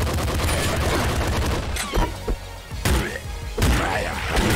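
Rapid submachine gun fire from the video game Nuclear Throne: dense, loud bursts of shots crackling over a busy game soundtrack, with a few sharp louder volleys standing out.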